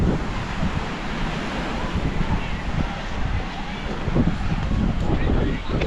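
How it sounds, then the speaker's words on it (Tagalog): Strong amihan (northeast monsoon) wind roars steadily against the microphone, mixed with the constant wash of surf from the nearby sea. "Hangin naman o, amihan."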